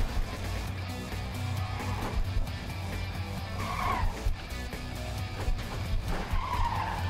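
Trucks in the Clustertruck game roll along under a continuous engine and road rumble, with two rising tire-squeal skids breaking through the middle and the end, steady and moderately loud.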